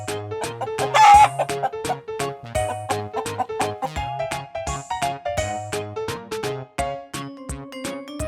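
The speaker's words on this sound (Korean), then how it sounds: "chicken, 닭," A farm chicken clucks in a quick string of short, sharp, loud calls close by, over a light musical backing, with no speech.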